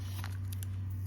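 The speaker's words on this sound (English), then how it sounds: "Get this tape off of here." Tape is pulled off a mail package in a few short, crackling rips over a low steady hum, quiet and close.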